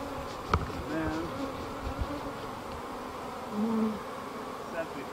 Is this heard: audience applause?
no